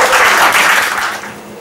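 Audience applause at a poetry slam on the Sunshine Coast, a loud burst of many hands clapping that begins at full strength and slowly tapers off.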